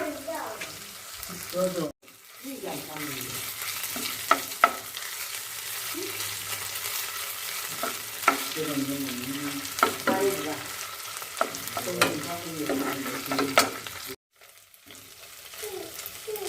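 Ginger and garlic paste frying with browned onions in a pan for a mustard fish curry, a steady close sizzle with stirring scrapes throughout and two brief pauses.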